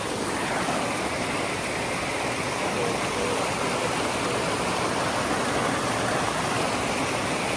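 Loud, constant roar of rushing water from nearby Long Creek Falls on the Appalachian Trail, a dense unbroken hiss filling the whole stretch with no voices.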